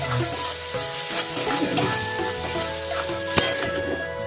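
Lote (Bombay duck) fish frying in oil in a pan on low heat, a steady close sizzle and crackle throughout with a brief sharp clink near the end.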